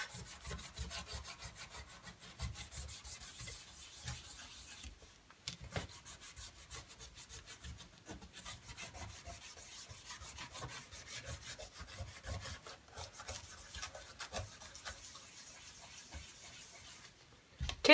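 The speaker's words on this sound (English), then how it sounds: "I'm going to take like a Scotch-Brite pad" Scotch-Brite pad scrubbing a copper shape held in a towel, a steady rapid back-and-forth rasping that runs continuously and close up, broken by a few short pauses, with no talking.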